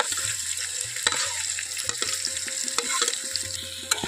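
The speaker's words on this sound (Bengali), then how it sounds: "আলু আর ঢ্যাঁড়সটাকে খুব ভালো করে ভেজে নেব" Okra and potatoes frying in a pan, a constant close sizzle with scraping spatula strokes and occasional clacks as the vegetables are stirred, no voices.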